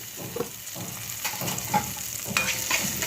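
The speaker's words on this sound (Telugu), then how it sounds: "సో ఇలా వేగిపోవాలండి" Hot oil sizzles and crackles steadily in a pan as a tempering with green chillies fries, with occasional stirring scrapes and small pops close by.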